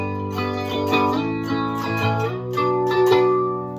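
An electric guitar plays through the clean channel of a TANK-G multi-effects pedal with modulation. Chords ring sustained and shimmer as they overlap, at a steady, fairly loud level with no voice.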